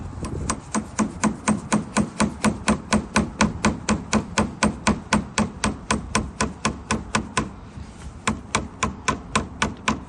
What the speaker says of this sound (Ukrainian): Ну ось, забили ми його приблизно на ті самі 4 см.